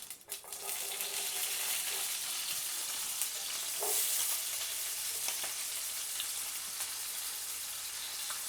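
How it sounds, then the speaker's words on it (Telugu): Chopped onions frying and being stirred in a pan for a country chicken curry, a steady close sizzle throughout with occasional scraping of the spoon against the pan. "ఇప్పుడు ఆనియన్స్ వేసుకుంటున్నా."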